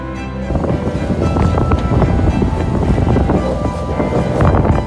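Strong wind roars over a sailboat at sea off Croatia in winter, a loud steady rushing with buffeting against the microphone, waves and spray mixed in, no voices.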